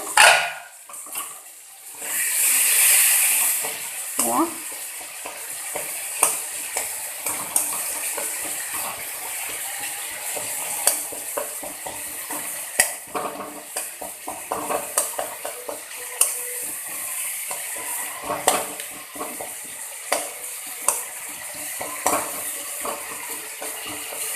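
Tomatoes frying and being stirred in a pan while cooking palak paneer, a steady close sizzle broken by scraping spoon strokes and occasional clinks, with no talking.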